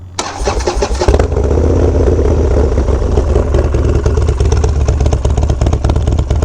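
Motorcycle engine on a solo bike trip starts up abruptly after a brief lead-in, then settles into a loud, steady, close-up rumble that runs continuously to the end.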